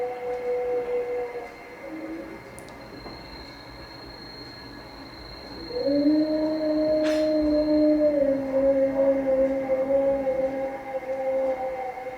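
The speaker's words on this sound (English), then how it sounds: "That sound you guys just heard right there is a timber wolf." A timber wolf howls near Algonquin Park on the southeast side of North Bay, Ontario, a long wavering tone rising then sliding slowly downward and holding, fairly loud over a steady background hum, with a brief sharp click in the middle.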